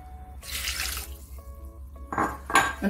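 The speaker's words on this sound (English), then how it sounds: "All I'm going to be doing now is to add in some water and allow" Water pours from a tap into a pot of Nigerian egusi soup, two separate splashing bursts with brief clinks of cookware between them, close by and without talking.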